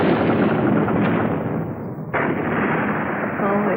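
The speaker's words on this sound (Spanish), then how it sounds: "Fue una explosión tremenda" Torpedo explosion striking the ocean liner Lusitania, a loud, continuous roaring blast of rumbling noise that dips briefly and then surges again near the middle, with no voices.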